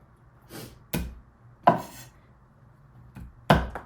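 Sharp crisp snaps ring out one at a time with pauses between, as celery stalks are cracked by hand close up.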